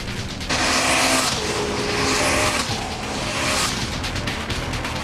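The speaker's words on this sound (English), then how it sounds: "The Civic car led the race and won the battle." A 1998 Honda Civic Type R race car roars past on a racing circuit, a loud engine surge that rises, dips and swells again as the car passes close by.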